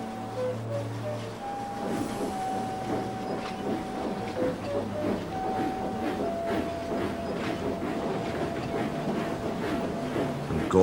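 Gordon, a big Doncaster-built steam engine, chugs along the rails in a steady rhythmic puffing and rattling that holds constant throughout, mixed with sustained musical tones.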